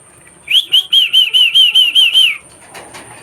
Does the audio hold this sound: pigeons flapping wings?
yes